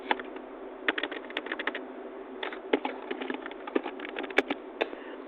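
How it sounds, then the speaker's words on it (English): Quiet, close typing on a computer keyboard, irregular bursts of light key clicks with short pauses between runs. "you type qualifications"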